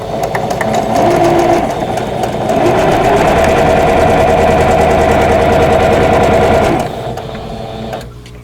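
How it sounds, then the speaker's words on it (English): A sewing machine stitches a vintage Baby Bunting quilt block, running steadily and loudly up close for several seconds in a rapid mechanical whir before stopping near the end. "I'll start sewing this together"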